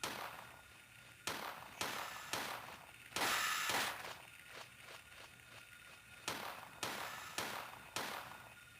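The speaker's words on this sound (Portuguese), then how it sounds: "Vou ficar gastando tiro assim." Gunshots from the Silent Hill video game sound as sharp, fairly faint cracks in an irregular sequence, about a dozen across the stretch. Each one decays quickly into a quiet ambient background, and no one speaks.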